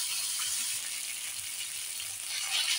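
Garlic, with ginger and whole spices, frying in hot oil in a home kitchen, a steady, close, bright sizzle with faint stirring and no talking.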